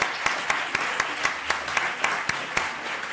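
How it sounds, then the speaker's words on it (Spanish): Audience at a comedy congress applauding at the end of a talk, steady crowd clapping with sharp regular claps standing out close by, continuing throughout. "Y despedimos con un aplauso."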